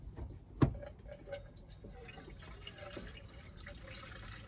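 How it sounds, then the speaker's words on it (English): Liquid poured into a makeshift car battery relocation line, a faint trickling wash with a single sharp knock near the start and quiet dripping, bubbling texture after. "We're just gonna try to pour this in here and hope for the best."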